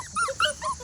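A Schnoodle puppy gives a few short, high-pitched yips and whimpering barks in quick succession, close by.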